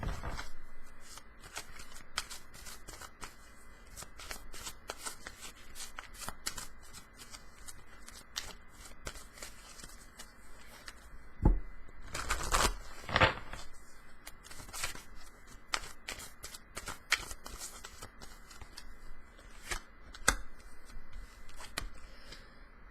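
A deck of Romance Angels oracle cards is shuffled by hand in steady, soft riffling and rubbing bursts, with a louder flurry near the middle, all fairly close and with no talking.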